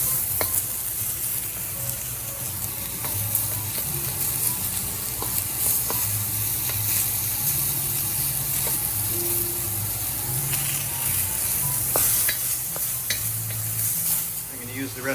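Mushrooms and peppers sizzle steadily in a hot pan for Kung Pao tofu, with a spatula scraping and stirring through the frying in frequent close clicks and scrapes; loud and continuous, no talking.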